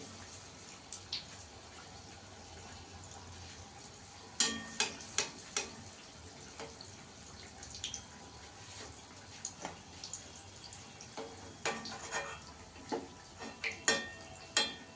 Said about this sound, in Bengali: গ্যাসের আঁচটাকে কম করে ভাজতে হবে, নাহলে ওপরটা পুড়ে যাবে, ভেতরটা কাঁচা থাকবে।